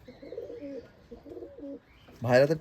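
Two soft low pigeon coos from a home loft sound close by, then a louder burst of human voice near the end.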